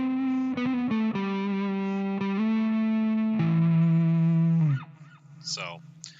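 A sustained psychedelic rock electric guitar tone with heavy effects holds and bends through a few notes, thick and distorted, then cuts off, leaving a brief voice.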